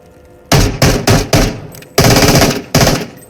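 A PPSh submachine gun fires in short, loud, close bursts in the Into The Radius VR game, with about six separate volleys of rapid shots and a longer burst near the middle.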